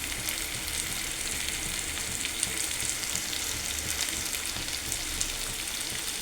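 Spiny gourd pieces for curry frying in oil in a pan, a steady close hiss and sizzle with faint crackles and occasional stirring, alone without talk.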